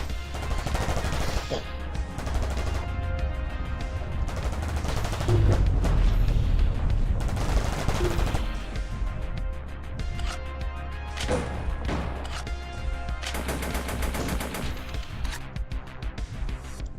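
Rapid turret gunfire in the video game Vortica, loud and continuous bursts mixed with crashes and explosive impacts over a dense game soundtrack, with no talk over it.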